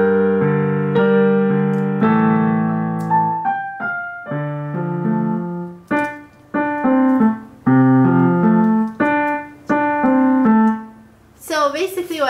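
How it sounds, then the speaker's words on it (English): Left-hand piano part of a song from La La Land, with sustained chords giving way to separately struck notes in a moderate, even rhythm, played clearly and alone. "Okay, so now for the left hand for Mia's part, which sounds like this."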